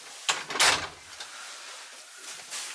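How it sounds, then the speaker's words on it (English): A door is pushed shut nearby with a brief knock and a rushing slide, then the sound fades into soft room noise. "you close the door."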